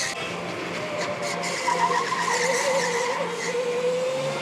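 Go-kart tires skid and squeal through a corner with understeer on an indoor K1 Speed electric karting track in Colorado, a sustained wavering screech over steady motor whine lasting throughout.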